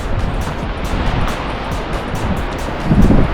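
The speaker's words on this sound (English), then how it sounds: "you have the water coming from the glacier and it goes here" Rushing turquoise glacial meltwater stream from Matier Glacier on the Joffre Lakes hike, a steady broadband wash of flowing water with some wind buffeting on the microphone and no talking.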